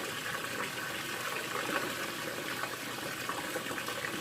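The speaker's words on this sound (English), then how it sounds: "I'm just going to run some water in here" Tap water runs steadily into a plastic refrigerator drawer during fridge cleaning, a continuous close hiss and splash that holds at an even level with no talking.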